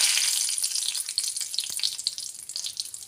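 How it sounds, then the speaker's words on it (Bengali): Whole cardamom, clove and bay leaves sizzle and crackle in hot oil for tempering a soybean curry, a bright continuous frying hiss with scattered pops, close and loud. "এবার ওই তেলের মধ্যে ফোড়ন দেব, একটা গোটা এলাচ, চিনি, এক টুকরো লবঙ্গ,"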